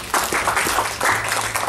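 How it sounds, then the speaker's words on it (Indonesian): A church congregation applauds together, a continuous patter of many hands clapping at moderate loudness over a couple of seconds, with no voices over it. "Tepuk tangan bagi Yesus Tuhan."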